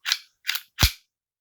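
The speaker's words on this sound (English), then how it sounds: "It's just fucking stainless steel rubbing against stainless steel." A stainless steel handgun action is worked dry, with no lubricant: three sharp, close metallic clacks in quick succession, the last one heavier, with no talking.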